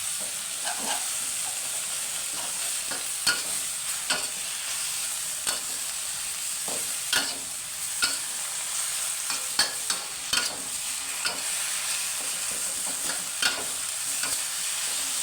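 Fried skipjack tuna tossed with sauce in a hot wok gives a steady, loud sizzle under brisk scraping and clanking of a spatula against metal, with irregular stirring knocks throughout.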